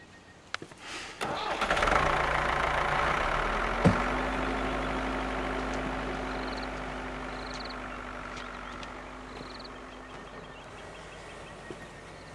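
A car engine cranks and starts in the farming video game African Skies, with a short starter whir and then a steady idle that holds and slowly fades.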